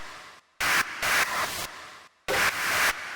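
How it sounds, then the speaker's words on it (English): A rhythmic techno effects loop of distorted noise samples pulses in loud bursts of hissing static, chopped by short silent gaps into a repeating eighth-note pattern with auto-pan. "this little effects loop that I made, where it's basically just some of my effects samples"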